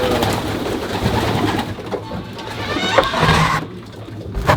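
Racing pigeons cooing in a loft, with continuous soft overlapping coos and rustling from many birds close by, with a few louder bursts of movement.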